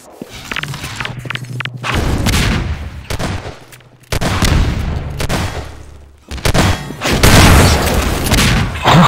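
Rocket explosions in Half-Life 2 Deathmatch, a run of loud booming blasts with heavy low-end thumps, the strongest bursts near four and six seconds, mixed with gunfire crackle in a busy multiplayer fight.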